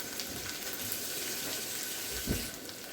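Mushrooms being rinsed under a running kitchen tap, a steady close splashing stream into the sink with a brief heavier gush near the end, no voices.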